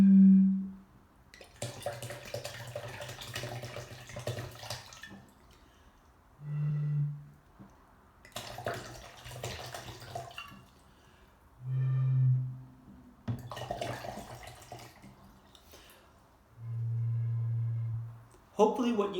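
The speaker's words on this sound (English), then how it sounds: "as there was less water in the bottle, the pitch, when I blew across the top of it, got lower" Low, breathy hoots from blowing across a water bottle mouth as water is poured out, five short tones spaced apart, each a bit deeper than the last, with splashing and clatter between.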